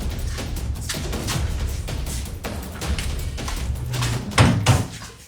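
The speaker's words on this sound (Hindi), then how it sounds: "आप ये दरवाजा लगा देना भैया" A house door is pushed shut with a dull thump near the end, preceded by shuffling and movement noise indoors; no speech over it.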